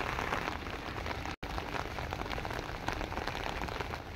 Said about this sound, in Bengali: কারণ বৃষ্টি শুরু